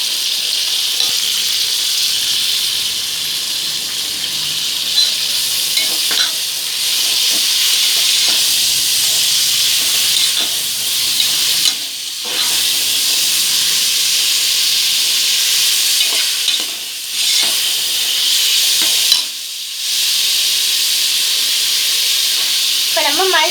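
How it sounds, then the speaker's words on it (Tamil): Onions sautéing in a pan give off a loud, steady sizzling hiss, with occasional brief dips and scraping stirs breaking the frying noise throughout. "வெங்காயம் நல்லா வதங்கிருச்சு."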